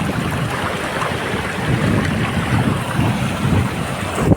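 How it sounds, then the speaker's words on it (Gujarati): Sea waves wash onto a beach in a steady, loud churning roar of surf, mixed with gusts of wind buffeting the microphone and no speech. "દરિયાનું નામે મોજા આવે છે"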